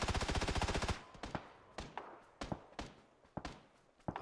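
A FAMAS rifle fires in PUBG, first a fast full-auto burst of tightly packed shots, then a run of single and paired shots at uneven intervals, fairly faint and with no talk.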